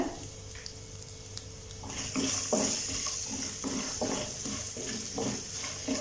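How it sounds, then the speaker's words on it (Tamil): Chopped ginger fries lightly in oil in a pan for coconut rice, with a steady sizzle. The sizzle swells after about two seconds and carries rhythmic stirring scrapes close by, with no voices. "இஞ்சி லைட்டாக வதங்கணும்."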